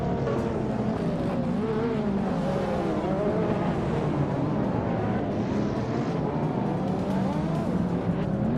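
Racing cars in a video game, including a Lamborghini running nose to tail with a rival, give a loud continuous drone of engines, with pitch rising and falling as they accelerate and shift, alone without voices.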